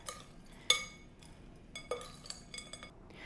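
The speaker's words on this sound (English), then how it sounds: "I'm going to go ahead and give this a mix." A spoon clinks against a bowl while strawberry pecan chicken salad is mixed, giving a few sharp, close metallic taps and scrapes spaced apart over quiet background.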